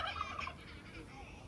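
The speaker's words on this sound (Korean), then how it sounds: "얘는 칠면조인가?" A turkey gobbles at a bird park in Kuala Lumpur, a fairly faint, warbling, rapid burst in the first half, then fading into light outdoor background noise.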